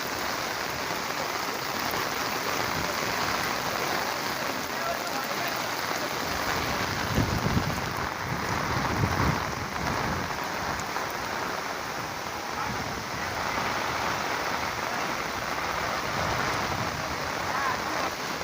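Steady heavy monsoon downpour falls on a flooded farm area in a Konkan village, a thick unbroken wash of rain with a few low rumbles swelling briefly in the middle.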